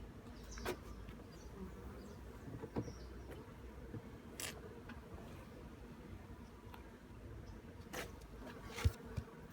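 Low, steady buzzing of many honeybees close by on hive frames, a continuous hum with scattered faint clicks and bumps.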